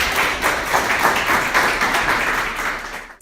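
A church congregation claps for Jesus, dense sustained applause with a steady rhythmic patter that holds for about three seconds before cutting off abruptly.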